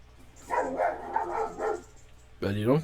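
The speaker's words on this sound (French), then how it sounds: "mon chien. Je sais pas si vous l'avez entendu au micro." A real dog barking close to a microphone during a French GTA roleplay session, with a few quick barks and yips after an earlier stretch of talk-like sound, loud and near.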